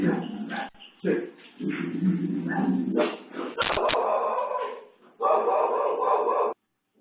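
A dog barks, yips and whimpers inside a house as a man chases it toward the kitchen with a slipper. The sounds come in loud bursts with short gaps, and voices are heard in the background.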